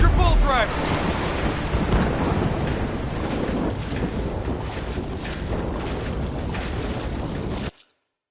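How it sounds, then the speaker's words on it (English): Heavy storm waves crash and surge continuously in a Call of Duty Black Ops III campaign scene, a loud broadband roar with wind noise and a high electronic tone at the start, sustained for about eight seconds before cutting out. "Waves hitting now."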